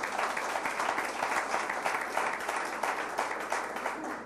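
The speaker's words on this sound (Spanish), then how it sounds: "Denle un aplauso al Señor Jesús." Church congregation applauding during a Sunday sermon, a steady wash of many hands clapping that fills the whole stretch at even loudness, with no clear talk over it.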